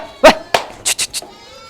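Boer goats on a farm with a herd of about 200 give loud, close bleats, two long calls followed by three short bursts in quick succession.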